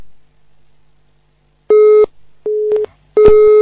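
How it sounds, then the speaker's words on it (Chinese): Telephone busy signal after a call line drops during a radio call-in program: three loud, steady beeping tones with gaps between them, heard alone with no talking. "电话线跳掉了，那要十几秒钟了"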